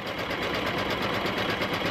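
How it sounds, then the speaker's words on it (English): A home embroidery machine stitches a luggage tag in the hoop on stabilizer, a steady close whirring hum with fast even needle pulses running throughout, no voices. "So now it's on the stabilizer stitching."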